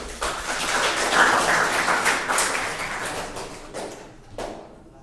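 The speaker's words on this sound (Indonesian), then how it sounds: "Tepuk tangan dulu." An indoor audience at a training session claps for a few seconds, a steady patter of hands that thins out toward the end with a few last claps, and no one speaking over it.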